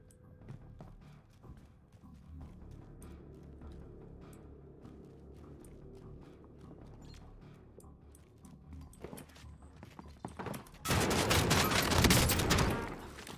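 Video game gunfire in a battle-royale match: scattered distant shots and thuds build to a loud, dense burst of rapid fire near the end, with no talking.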